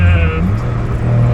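A Mazda Miata engine revs loud and close while racing, its droning note dropping and shifting pitch as a gear shift is missed, with a steady engine hum continuing after.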